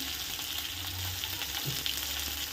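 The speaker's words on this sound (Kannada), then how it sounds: "ಈರುಳ್ಳಿ ಸ್ವಲ್ಪ ಚೆನ್ನಾಗಿ ಗೋ ಒಂದು ಸ್ವಲ್ಪ ಚೆನ್ನಾಗಿ ಫ್ರೈ ಆಗಬೇಕು" Onions and Byadagi chillies sizzle in a pan as a steady, soft frying crackle with no talking.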